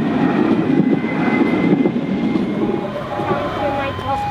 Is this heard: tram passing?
yes